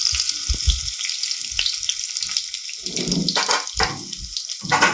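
Chopped green chili is dropped into a hot pan for jeera potatoes, bringing loud bursts of sizzling and crackle between quieter gaps, up close with no speech.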